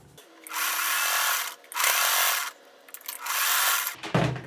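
Sewing machine stitching scraps of denim together, three loud motor-driven bursts of roughly a second each separated by short pauses, ending with a brief clatter.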